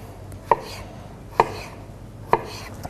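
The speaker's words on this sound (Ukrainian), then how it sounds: "Кубиками нарізаємо огірок" A knife dices cucumber sharply onto a board, three distinct evenly spaced cuts with quiet pauses between them.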